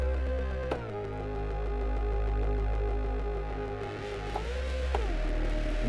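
A Korg Opsix mkII FM synthesizer plays a sustained patch whose buzzy, harmonically rich tone shifts and morphs as its settings are changed, with brief timbral jumps and a deep low drone underneath, with no voices.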